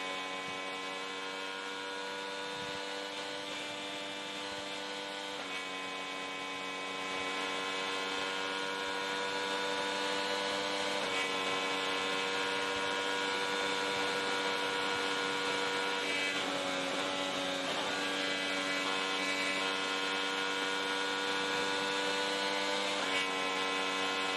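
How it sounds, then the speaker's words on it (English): Indianapolis 500 IndyCar in practice, heard as a steady high-pitched engine drone that wavers slightly as the throttle is feathered, continuous and loud for the whole stretch with no talking over it. "You just hear him having to feather the throttle like that"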